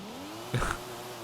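A 900 hp widebody Toyota Supra drifting in Forza Horizon 5 on a wet road, its engine holding a sustained, slowly rising whine with a brief louder burst in the middle.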